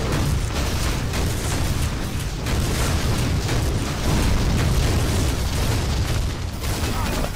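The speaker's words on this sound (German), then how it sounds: "Du bist in meinen Schuss reingelaufen vom Raketenwerfer." Rocket launcher explosions in the video game Unreal Tournament, heard as a dense, continuous roar of blasts and booms that stays loud for the whole stretch with no clear gaps between hits.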